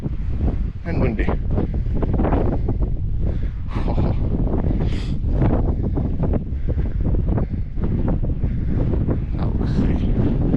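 Strong wind on an exposed mountain slope of Mount Maroon in Australia buffets the microphone in gusty, rumbling bursts that rise and fall without pause.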